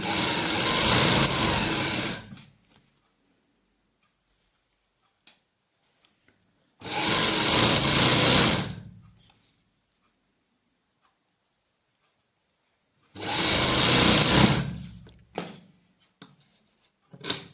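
A sewing machine stitching a straight salwar runs in three loud, steady bursts of rapid whirring, each lasting about two seconds, separated by quiet pauses with faint handling clicks.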